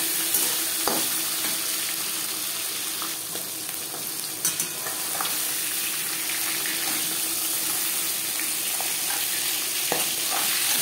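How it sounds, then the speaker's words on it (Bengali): Fish sizzles steadily in hot oil in a pan for a fish curry with potatoes, a continuous crackling fry with a few sharper spatters and light utensil clinks, close up and without talk. "মাছ একটা সাইড ভাজা হয়ে গেলে অপর সাইডটা উল্টে দেব।"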